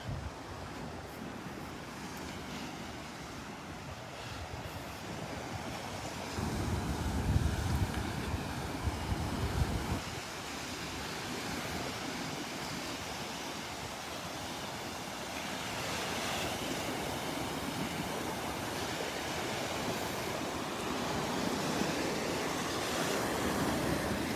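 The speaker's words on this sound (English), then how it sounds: "our beach does not need this pounding from the waves" Ocean waves pound the beach at Delnor-Wiggins on a stormy, windy morning. A continuous heavy surf roar swells in surges, with a stronger crashing burst partway through and wind buffeting the microphone.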